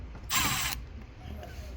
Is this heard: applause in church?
no